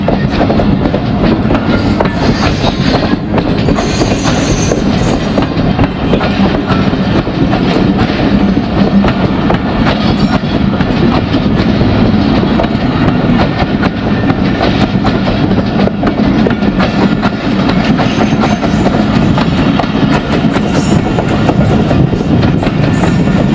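A Millat Express passenger train running along a Pakistani railway line, with steady loud rumbling and continuous rhythmic wheel clatter that stays close for the whole stretch.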